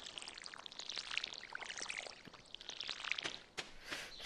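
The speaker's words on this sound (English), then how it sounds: "I mean, I water this." A watering can pours over crops in the Stardew Valley video game, a soft, hissing stream with light splashy drips, quiet and steady for a few seconds with no talking.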